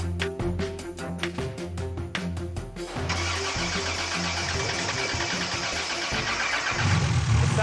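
A farm vehicle engine in a video game cranks with rapid rhythmic starter bursts, catches into a loud steady running roar, and swells slightly at the end.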